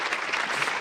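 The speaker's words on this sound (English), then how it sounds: "can you give a big round of applause to our 4 speakers?" An audience at a CERN celebration of the World Wide Web's 20th anniversary applauds four speakers, a brief, dense burst of steady clapping filling the whole moment.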